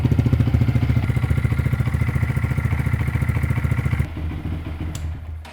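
A Honda Monkey 125 motorcycle engine fitted with a Yoshimura GP-MAGNUM Cyclone aftermarket muffler idles with a deep, bassy exhaust rumble and steady pulsing beat, close and loud, then drops lower and quieter near the end.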